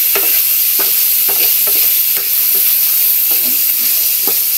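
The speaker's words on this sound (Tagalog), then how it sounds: "Haluin natin." Chicken liver and gizzard adobo seasoned with pepper and spices, sizzling steadily in a pan while a utensil stirs and scrapes in short repeated strokes, close and loud with no talking.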